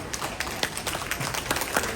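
Hand clapping from a crowd at a Sanatan Dharma religious gathering in Leicester, a dense steady patter of many claps with a few sharper close claps standing out, continuous through the moment.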